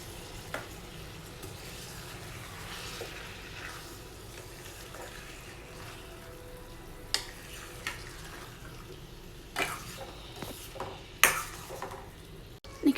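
Masala and curd being mixed in a cooking pot for a vegetable curry, a soft low sizzle underneath with scattered spoon scrapes and metallic knocks against the pan, growing more frequent toward the end.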